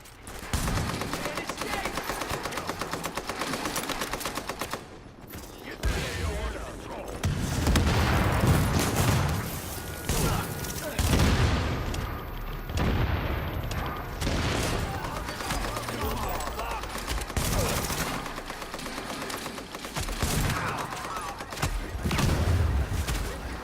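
Gunfire in the video game Tom Clancy's The Division, a shooter fight against targets in cover, with loud repeated shots and booming bursts running almost nonstop under in-game sound and some speech.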